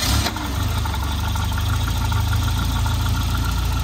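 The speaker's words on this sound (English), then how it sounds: "It's not idling for whatever reason." A Volvo 940 Turbo engine idles roughly close by, a steady, slightly uneven low rumble that runs on alone without a break.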